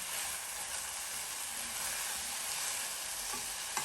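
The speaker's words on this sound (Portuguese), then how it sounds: "aquela banha vai derretendo e o alho vai fritando" Rice fries with melting lard and garlic in a pan, giving a steady, dense sizzle that holds evenly throughout, with one small clink near the end and no voices.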